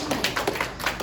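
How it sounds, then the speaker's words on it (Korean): A church congregation claps after worship, a short burst of brisk, fairly even applause at moderate distance. "우리 하나님께 영광의 박수 올려드리겠습니다"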